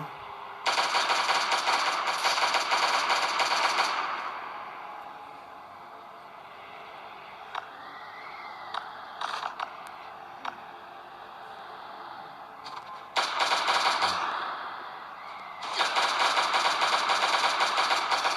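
Rapid automatic gunfire from the Last Day on Earth Survival video game comes in loud sustained bursts, with quieter in-game ambience and small clicks between them.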